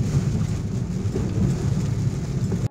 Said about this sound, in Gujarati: વરસાદ તો યાર જબરજસ્ત ચાલુ થઈ ગયો છે બહાર